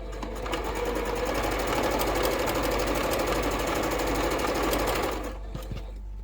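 Close and loud, a sewing machine chain-pieces rows of quilt blocks at a quarter-inch seam, whirring steadily for about five seconds before winding down to a stop.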